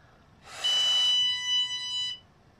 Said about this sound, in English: puff number one, we should just have a beep.